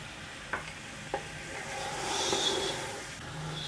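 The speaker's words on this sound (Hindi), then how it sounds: "अदरक लहसुन का पेस्ट डाल के आप इसे फ्राई करें तकरीबन 5 मिनट के लिए" A soft, steady sizzle of ginger garlic paste frying in a pan, with a couple of light clicks from a utensil near the start.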